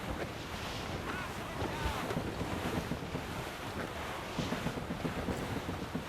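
Wind rushing and water washing around a sailing warship at sea in Assassin's Creed Rogue, a steady broadband roar with gusty swells running the whole time, loud and close, with no voices over it.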